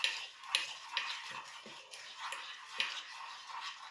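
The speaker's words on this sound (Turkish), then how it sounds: "tahta kaşığımızı güzelce karıştırıyoruz" A wooden spoon stirs sugar in a pan, soft scraping strokes with light ticking knocks against the pan in an irregular rhythm, close and quiet.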